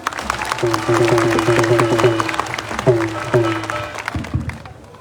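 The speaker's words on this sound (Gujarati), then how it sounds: "અનંત સાહેબ માટે જોરદાર તાળી પાડો" A crowd at a public gathering applauds MLA Anant Patel, with steady clapping that fades near the end while a raised voice carries over it.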